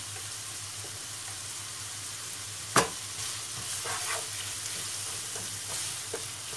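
Tomato and pepper paste sizzles steadily while being sautéed in a pan, a soft continuous frying hiss with occasional stirring scrapes and one sharp clink near the middle, no talking.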